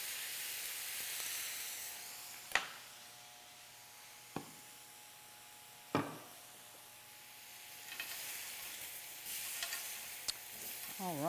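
Pineapple pieces sizzle on a grill while being basted with sauce, a steady soft hiss with a few sharp clacks of utensils and occasional louder flare-ups.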